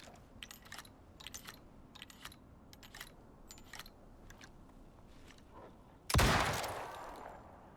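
Gunfire loaded with explosive ammo in the Icarus survival game: several rapid bursts of shots at a quiet level, then one loud explosive blast that rings out and fades.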